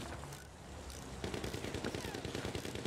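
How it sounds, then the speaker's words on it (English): Gunfire in the Battlefield 1 video game: a quiet, distant-sounding rattle of rapid machine-gun bursts starts about a second in and runs on, over a low rumble of battle noise. "They're shooting us."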